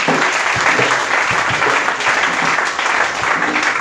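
Church congregation applauding and cheering loudly in praise during a French-language sermon, a dense, steady wash of clapping and cheers filling the whole stretch.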